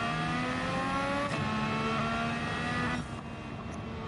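A race car engine in the Gran Turismo 7 video game revs high and strains through gear changes, a loud continuous whine with rising and shifting pitch and a brief dip near the end, no voices.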